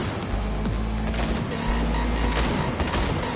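Rapid gunfire rattles through a car chase in Cyberpunk 2077, dense continuous shots layered over a vehicle's engine rumble, loud and close throughout.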